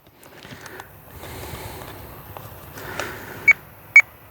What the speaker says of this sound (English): This was the sound, 3 beeps.